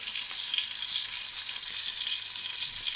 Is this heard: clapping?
no